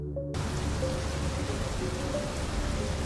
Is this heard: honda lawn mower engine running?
no